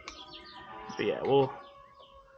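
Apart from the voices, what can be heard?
birds chirping outdoors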